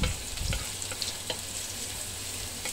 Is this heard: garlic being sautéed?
yes